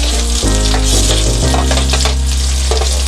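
Onions fry in a pan for Filipino beef caldereta, a loud close sizzle running continuously with stirring scrapes, over a steady low hum.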